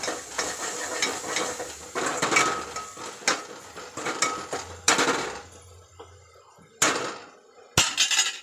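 A spoon stirs turmeric into a fish curry in a pan, scraping and clinking in close, irregular bursts, with a faint sizzle between strokes and a few sharper metallic knocks near the end.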